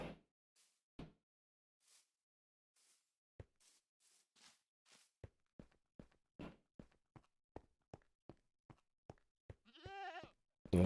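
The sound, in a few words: goat bleating at a goat exhibit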